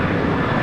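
A Cathay Pacific airliner lands on runway 19 left at Brisbane Airport with a loud, steady engine roar that fills the whole brief moment.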